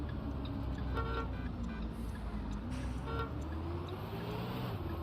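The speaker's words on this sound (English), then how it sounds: "We just keep honking." Vehicle horns honk repeatedly over continuous road traffic, several bursts of tooting standing out at a moderate distance with no talking.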